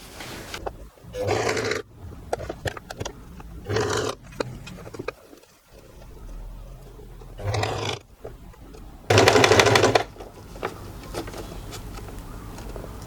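A sewing machine stitches fabric for a skirt in short bursts, with several separate runs of loud mechanical whirring broken by quieter pauses.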